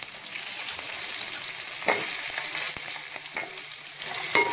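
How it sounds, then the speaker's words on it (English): Okra, onions and green chili frying in a pan for sambar, a continuous hissing sizzle at moderate level with a few light clicks of a stirring utensil. "I'm going to fry this."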